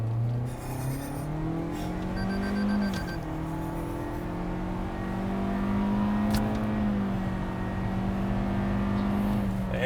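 Engine of a 2022 Toyota Corolla Cross with a CVT, launching hard from a stop: a loud, steady droning whine that climbs in pitch, dips briefly, then holds high and rises again, heard from inside the cabin with no talking.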